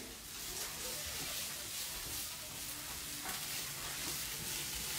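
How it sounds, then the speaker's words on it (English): Food stirred in a hot pan, a continuous soft sizzle with faint scraping strokes, steady and quiet throughout. "Gonna give this a stir."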